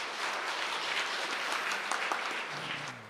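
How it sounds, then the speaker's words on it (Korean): A church congregation applauds during a Sunday service for a retiring elder, a steady, dense wash of clapping that fills the room throughout and fades slightly at the end, with a faint voice entering near the close. "큰 박수 해주시고요"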